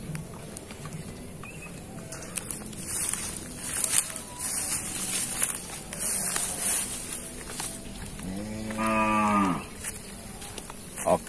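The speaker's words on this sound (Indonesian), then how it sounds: "Pada sore hari ini Mamang Daklan ini mau kasih minum sapi, Bang ya?" Javanese cattle in a traditional livestock shed, several loud, drawn-out moos near the end over shuffling hooves, rustling and scattered footsteps nearby.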